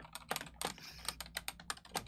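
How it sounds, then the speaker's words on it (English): Rapid computer keyboard typing during an online Dungeons & Dragons 5e session: a close, uneven run of crisp key clicks with no talking. "God, Axel's typing."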